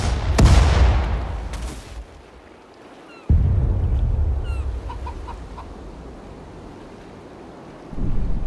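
Artillery guns fire in Sudden Strike 4 during the Pacific War battle of Guadalcanal, a heavy boom opening the moment and another blast a few seconds later, with rumbling and faint ambient battle noise between them.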